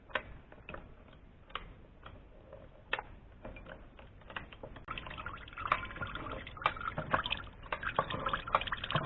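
Apple juice from a manual cider press, pressed for cider vinegar, drips and trickles in irregular close ticking drops, growing busier and louder toward the end.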